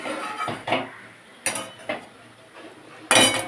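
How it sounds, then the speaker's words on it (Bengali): Grated carrot stirred in ghee in a pan for carrot halwa, heard as several distinct scraping clanks of a utensil against the pan spaced across the moment, fairly close, with quiet gaps between strokes and no talking. "গাজরটাকে খুব ভালো করে নাড়াচাড়া করে নিচ্ছি ঘিয়েতে"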